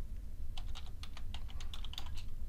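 Keys clack quickly and irregularly on a computer keyboard, close and fairly quiet over a low background hum, with no talking.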